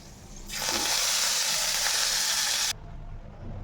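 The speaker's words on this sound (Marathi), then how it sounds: "त्यानंतर आपण ह्या तडक्याला सोडूया भाजीवरती" A hot spice tempering poured over pigeon pea curry bursts into a loud, sharp sizzle that holds for about two seconds and then drops away to a quieter simmer, close by and without speech.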